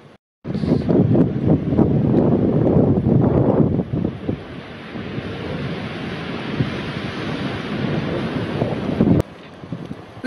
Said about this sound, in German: jetzt wird's nass hier und der Sturm nimmt zu